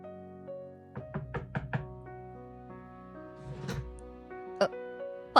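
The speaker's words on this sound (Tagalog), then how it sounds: "Narinig niya ang katok sa pinto." Several sharp knocks strike a door in a quick cluster, followed by a couple of isolated raps later on, with a soft tonal music bed running underneath throughout.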